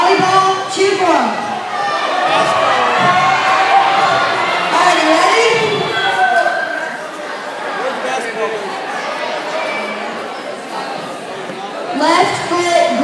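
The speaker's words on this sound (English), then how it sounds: "And crowd, cheer for your favorite sport." Pep rally crowd of students cheering and shouting in a gym, a loud sustained roar of many voices that swells and fades, with an announcer's amplified voice heard over it at the start and end.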